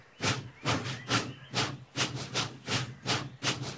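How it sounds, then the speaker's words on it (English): A steam locomotive puffs in a steady, even rhythm of about nine sharp hissing chuffs, close and moderately loud, with no voices over it. "James puffed away as quickly and quietly as he could."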